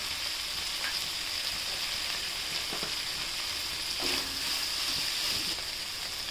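Two large tomatoes and turmeric fry in a pan with a soft, constant sizzle, quiet and even, with a few faint stirring scrapes.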